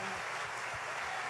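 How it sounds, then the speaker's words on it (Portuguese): A conference audience applauds for Christian mothers, a dense, continuous wash of clapping throughout, fairly loud and close. "Vamos dar agora uma salva de palmas para todas as mães que são cristãs e levam as crianças para a igreja."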